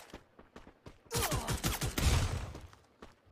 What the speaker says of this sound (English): Fancy footwork, managing to avoid all the gunshots up until now.